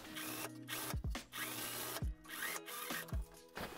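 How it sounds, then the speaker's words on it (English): An overlocker serges raw edges of fabric panels in short bursts of mechanical whirring, stopping and restarting several times with brief pauses between runs. "Now I have raw edges here that I will be overlocking."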